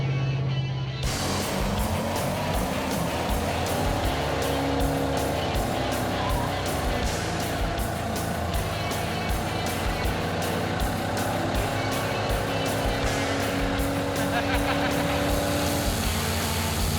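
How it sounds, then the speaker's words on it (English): Chevrolet Camaro doing a burnout: loud sustained engine roar with rising revs and tire noise that fills the whole stretch, steady and close, no talk. "Or a proper burnout."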